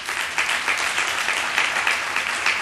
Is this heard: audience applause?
yes